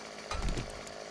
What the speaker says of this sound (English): Crit, the chainsaw noise